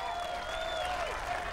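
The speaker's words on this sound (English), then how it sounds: "a rapturous cheer for the American" Dense, steady applause and cheering from a large arena crowd at a 1997 World's Strongest Man final, sounding distant and washed together, with a faint tone running through it.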